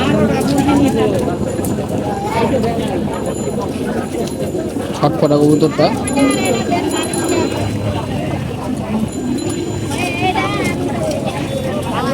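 Giribaz pigeons cooing and fluttering at the crowded Tongi pigeon market in Bangladesh, their calls mixed into a dense, loud wash of people talking nearby.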